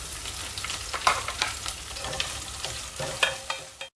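Onion, green chili and garlic sauté in a pan with a continuous close sizzle, broken by frequent spatula scrapes and clicks in an irregular stirring rhythm before stopping abruptly.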